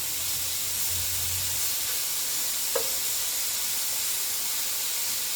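Shredded cabbage searing in hot bacon grease, giving a steady, even sizzle and hiss throughout with one brief soft clink partway through and no talking.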